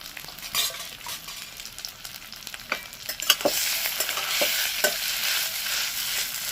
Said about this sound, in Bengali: তার জন্যই আলু সেদ্ধটাকে শুধু রাখলাম না এটাকে ভেজে নিচ্ছি